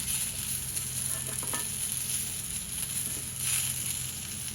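Cumin seeds, curry leaves and garlic sizzle steadily in hot oil, a close, continuous crackling hiss with a brief stir partway through, no voices over it.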